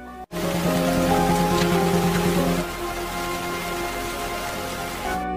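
Steady, dense rain pouring down in a forest, a loud continuous hiss that drops slightly in intensity partway through, with no voices.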